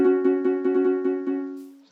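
Minecraft note blocks driven by repeaters at one redstone tick play rapid, evenly spaced tonal plucks in a quick blur, about eight notes in under two seconds, clear and close with no talking.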